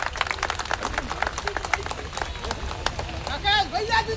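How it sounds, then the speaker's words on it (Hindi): A crowd at an outdoor workers' protest rally claps steadily to welcome a union leader onto the stage, a dense run of hand claps mixed with crowd babble, with sharper whistle-like tones rising near the end. "जोरदार तालियों से स्वागत किया जाए।"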